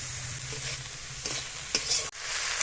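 Chopped cabbage with salt and turmeric fries in a pan, giving a steady close sizzle with a few brief stirring scrapes and clicks and no talking.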